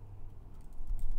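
Typing on a computer keyboard while coding a Node.js program, a steady patter of light key clicks close by that grows slightly busier toward the end, with no talking.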